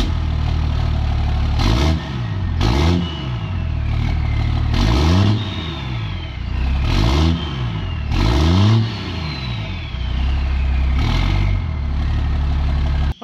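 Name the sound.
diesel truck engine revving through exhaust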